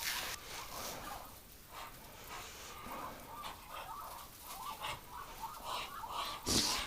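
A flock of ducks in a heated winter coop keeps up a steady, close chatter of quacks and murmurs throughout, over a constant hiss of background noise, with a sharp loud clatter near the end.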